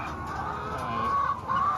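Young hens cluck in a padded nest box where laid eggs roll forward, a close, steady stream of murmuring clucks with a few rising tonal calls near the end.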